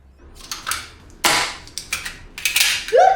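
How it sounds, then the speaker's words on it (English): A pistol fitted with a Cool Fire dry-fire trainer has its magazine released and reloaded, heard as a quick series of sharp metallic clicks and clacks close up, ending in a firm seating snap. "I am going to depress the mag release and reload."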